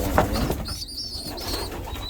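Young pigeons in a breeding loft give soft, close cooing and squeaky calls, with a brief rustle of movement and no talk.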